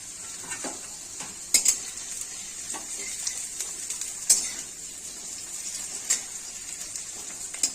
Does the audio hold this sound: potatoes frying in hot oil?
yes